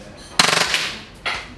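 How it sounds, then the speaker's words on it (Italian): WE Galaxy airsoft pistol firing an accidental full-auto burst at a target 15 metres away: a rapid string of sharp cracks over about half a second, close and loud, followed by a quieter single shot. "Andiamo quindi a inserire il caricatore e andiamo a sparare."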